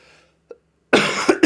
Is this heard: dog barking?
no